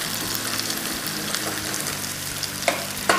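Seasoned food in a pan sizzles loudly up close, with bursts of stirring and two sharp scraping clacks of the utensil near the end.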